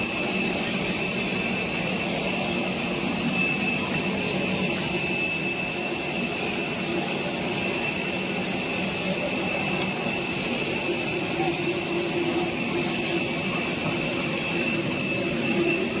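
Steady, loud roar of a jet airliner engine at Davao International Airport, a continuous broadband rumble with a high whine holding level throughout, no voices over it.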